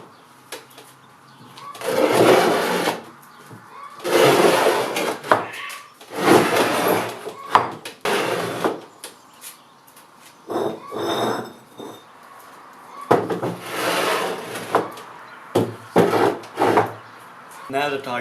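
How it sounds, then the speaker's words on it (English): Concrete blocks set down and slid over a wooden table for a small forge, then sand worked into the cracks: repeated bursts of gritty scraping and rubbing with hard knocks between, close and fairly loud. "I'm going to put a layer of those concrete blocks all over the wooden table"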